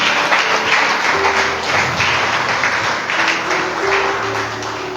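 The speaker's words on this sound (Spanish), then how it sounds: "Denle un aplauso grande a Jesús." Church congregation applauding together after a call to honor Jesus, a steady broadband clapping wash that holds loud and sustained with a faint low hum underneath.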